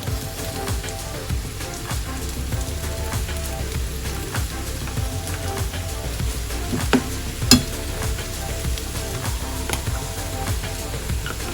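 Cauliflower rice with chicken and pork sizzling steadily in a pan, with a constant frying hiss, occasional stirring scrapes and a couple of louder clinks from the pan.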